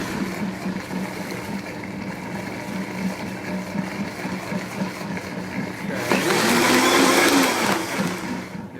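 A blender whirs steadily as it purees salsa, its motor climbing to a louder, rougher roar in the last few seconds.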